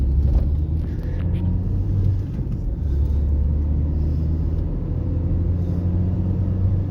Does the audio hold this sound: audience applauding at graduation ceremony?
no